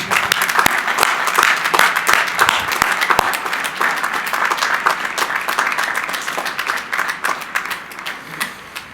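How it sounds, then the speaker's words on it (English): A large crowd at a college commencement ceremony applauds steadily, dense clapping filling the space with a few sharper claps standing out, sustained throughout. "Can we now give both Clayton and Julianne a big round of applause?"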